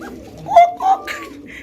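An Arabian coca pigeon gives a few short cooing calls, close by, with some background chatter and noise around them.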